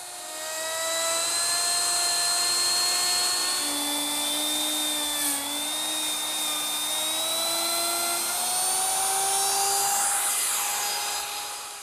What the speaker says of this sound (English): I use my router with the laminate trimming bit.